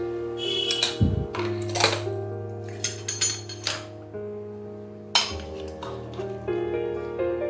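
A pressure cooker lid holding cooked mutton is opened, giving a series of metallic clinks and light knocks close by over a faint tonal background, with no talking.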